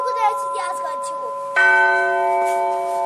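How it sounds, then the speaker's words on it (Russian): Church bells are rung by hand in a bell tower, the sustained metallic tones swelling loudly and near after a burst of softer ringing with faint voices behind. "Вот где б ты еще поиграл так на колоколах, на колокольне?"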